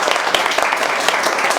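An audience in a hall gives a burst of dense, loud applause, many hands clapping together in a steady, close wash.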